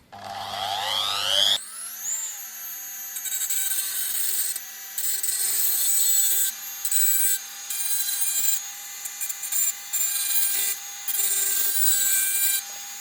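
A rotary engraver spins up with a rising whine, then grinds against a steel knife blade in bursts of harsh, close scraping between short pauses, its high motor tone steady underneath.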